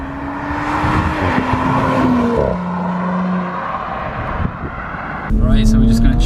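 A 2018 Audi S4 Avant's engine note rises and falls as the car is driven through a bend, a steady in-cabin drone with shifting pitch and a louder surge near the end.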